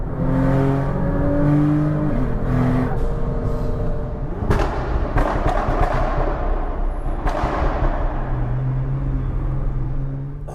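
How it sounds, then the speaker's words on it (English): Steady Nissan GT-R cabin drone, a 2000 hp build, with a high, thin gearbox whine running throughout, plus occasional sharp pops and bangs from a pop-and-bang map; no voices. "you can hear that whine, that's the gearbox whine"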